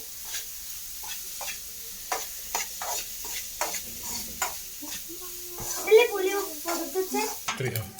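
Ginger stir-fried in a pan until browned, with a steady soft sizzle of oil under repeated scraping and clinking stirs, growing busier near the end.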